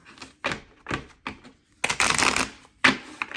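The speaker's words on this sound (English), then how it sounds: "Now I'm just gonna do one shuffle." A tarot card deck is shuffled up close: short papery riffles come in quick separate bursts, then one longer, denser riffle runs in the middle, followed by a few crisp snaps. No one speaks.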